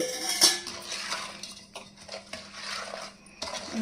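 A spoon mixes chilli powder into amla pickle, scraping and clinking against a metal vessel in irregular close bursts with brief pauses between strokes.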